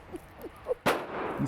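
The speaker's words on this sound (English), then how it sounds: "the sound and power of gunfire almost instantly startles Antonia" A sharp, loud gunshot cracks once at an indoor shooting range, preceded by faint soft thumps and followed by a short echoing decay.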